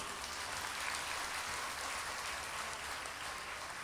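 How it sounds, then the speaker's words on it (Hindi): Audience applause at a motivational talk, a dense, even patter of many hands clapping that stays faint and steady with no voices over it. "अब बजाओ असली ताली।"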